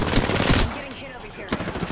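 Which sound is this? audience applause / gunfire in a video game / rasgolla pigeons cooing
gunfire in a video game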